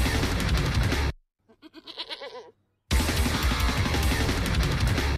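A person imitates a goat with a short, quavering bleat that wobbles in pitch. It sits in a brief gap between loud bursts of dense music that play before and after it.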